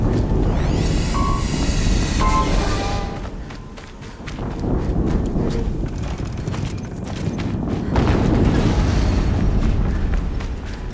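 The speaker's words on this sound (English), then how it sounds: "Another explosion." Explosions during the Maker's End mission of Horizon Zero Dawn Complete Edition: deep rumbling booms swell and fade amid a continuous wash of clattering, mechanical game sounds, with no talking.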